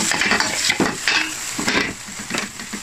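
Mushrooms browning in a wok, with a continuous sizzle broken by repeated scraping and stirring strokes of a utensil against the pan, close and fairly loud, with no talking.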